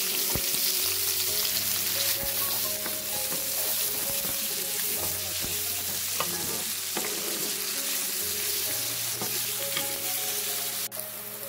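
Two large onions with bay leaves and cinnamon sticks fry in hot oil, producing a steady crackling sizzle alongside repeated stirring scrapes and occasional metallic knocks of the spoon.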